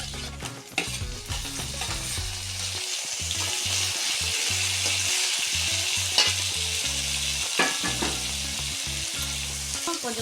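Tomatoes frying and being stirred in a pan for a tomato thokku, a steady loud sizzle with scraping stirs throughout, over background music.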